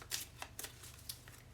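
Tarot cards are shuffled by hand in a few quick, close riffles and slides separated by short pauses, quiet and without talk.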